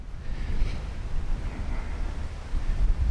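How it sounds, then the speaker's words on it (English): Steady low rumbling wind buffets the microphone outdoors, a continuous blustery roar with gusts swelling and easing, no voices. "I'm in an open area at the moment, so it is windy."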